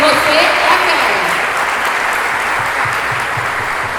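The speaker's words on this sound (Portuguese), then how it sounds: "Dá uma salva de palmas para você" An audience at a motivational talk breaks into applause, a dense, steady wash of clapping throughout, loud and fairly close, fading slightly toward the end.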